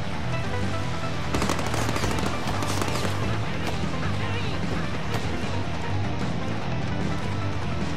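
A big gun fires rapid bursts in the Deadpool video game, a dense rattle of shots over loud continuous game noise, with voices mixed in.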